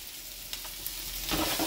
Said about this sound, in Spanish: así que vamos a sofreír